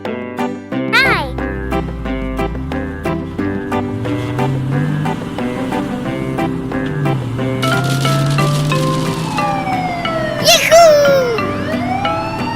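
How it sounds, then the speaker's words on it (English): A black toy police car's siren wails with rising and falling tones over bouncy cartoon music, swelling loudest near the end amid light clinking. "Black police car."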